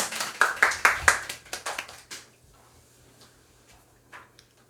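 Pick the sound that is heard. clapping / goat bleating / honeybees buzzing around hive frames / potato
clapping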